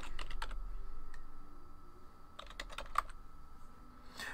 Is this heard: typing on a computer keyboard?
yes